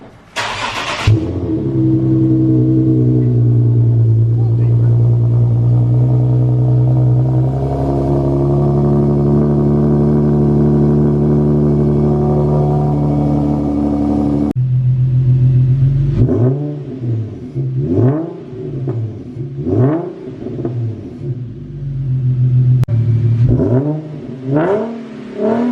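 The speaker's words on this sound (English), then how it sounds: "then we'll start the car up" Infiniti G37 Type S fitted with resonated test pipes cranks and starts, settles into a loud steady idle, then revs up sharply several times in quick bursts with a raspy exhaust note, close by and with no talking.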